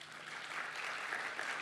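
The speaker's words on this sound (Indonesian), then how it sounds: "Tepuk tangan sama Tuhan Yesus." A church congregation claps during a Sunday service sermon, a soft, fairly distant patter of many hands that holds steady for a short moment without speech.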